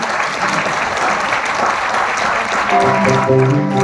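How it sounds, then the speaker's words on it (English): A crowd applauds the cast of a Little Mermaid musical show steadily, a dense wash of clapping that swells slightly near the end as music with a sustained melody begins underneath. "Let's hear a round of applause for the cast"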